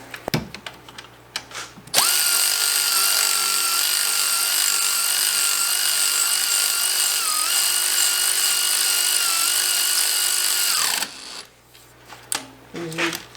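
A Milwaukee power tool driving a bolt during alternator work on a 2014 Toyota Camry, a loud, steady motor whine running for about nine seconds before stopping, with handling noises before and after.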